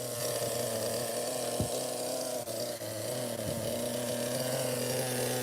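A vintage ABN-type RC model glow engine runs steadily on the bench, a continuous nasal buzzing whine close by with slight dips in pitch and no talking.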